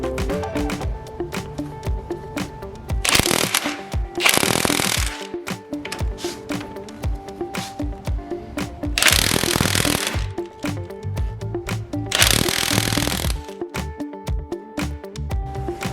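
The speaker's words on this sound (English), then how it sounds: "I'm gonna be removing the 2 bolts with a 17mm deep socket. I'm gonna use my power tool." Impact wrench on 17mm bolts with a deep socket at a Mazdaspeed 3 passenger motor mount, firing in four loud hammering bursts of about a second each, separated by quieter workshop background.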